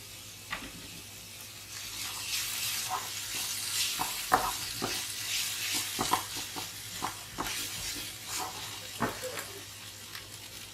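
Onion, garlic, celery and mushrooms sizzle steadily in a hot pan, with a spoon stirring and scraping through them in irregular clicks and knocks, close and fairly quiet throughout.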